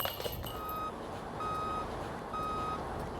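A truck reversing with three evenly spaced backup beeps, a steady high tone repeating about once a second over a low engine rumble and background noise, moderately loud and with no talking.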